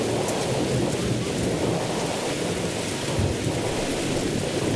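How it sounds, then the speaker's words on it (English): Heavy video-game rain pours down in a dense, constant hiss under low rumbling thunder during a storm, loud and unbroken with no voices. "the rain is really loud again."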